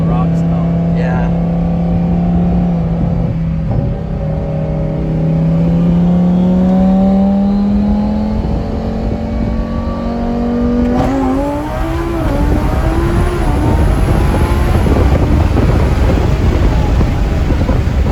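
A twin-turbo Lamborghini Huracan engine idles with a low rumble, then revs higher in rising sweeps, ramped up to medium boost, loud and close with wind noise, before bursting into a harsher, roaring climb.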